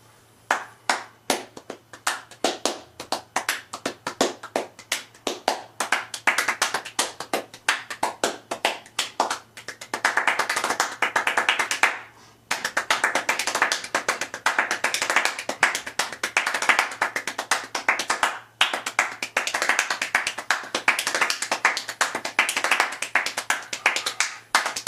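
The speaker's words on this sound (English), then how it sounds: "the second part gets into the ultra-fast, extreme, super fast clapping" Hands clap extremely fast in a world-record clapping demonstration, a dense, continuous stream of sharp claps close to the listener that speeds into an almost blurred rattle, with only brief breaks.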